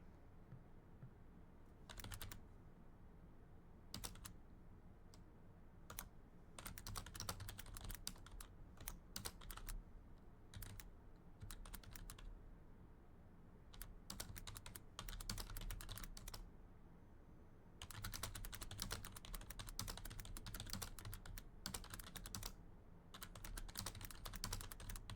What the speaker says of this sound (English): I'm sorry if my keyboard's a little loud.